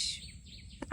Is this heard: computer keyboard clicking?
no